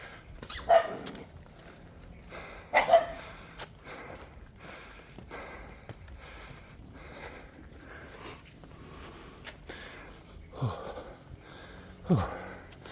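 Puppies bark intermittently at a distance on Koh Larn island, Pattaya, Thailand, several separate yaps and woofs spread out over a quiet outdoor background.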